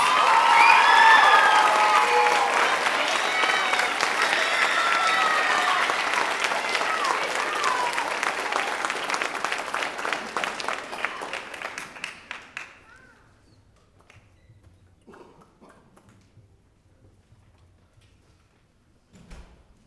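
After a middle school band concert, the audience gives a loud, dense round of applause that holds for about twelve seconds and then thins to a few scattered claps and quiet room noise.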